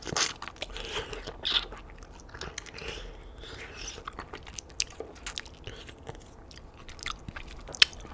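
Boiled peanuts in the shell being bitten and chewed up close, with wet crunching bites and squishy mastication repeating irregularly throughout, plus a few sharper cracks of shell.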